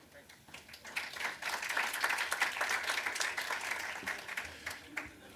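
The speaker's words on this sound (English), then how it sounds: "No, you're not expected to clap." Audience clapping at an economics policy dialogue on inequality, a steady burst of applause that swells and then tapers over several seconds, with voices mixed in.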